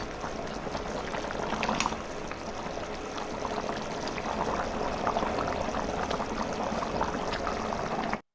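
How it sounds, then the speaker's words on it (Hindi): Vegetable curry with potatoes boiling in a pot, a steady close bubbling and simmering with small pops and gurgles throughout, ending abruptly. "ये देखिए इसमें एक उबाल आ गया था सब्जी में"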